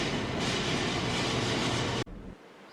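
Steady loud rumble and rattle of a Queensland Tilt Train passenger train between Brisbane and Cooroy, broadband and continuous, cutting off abruptly near the end to a quieter hum.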